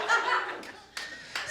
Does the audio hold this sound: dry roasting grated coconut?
no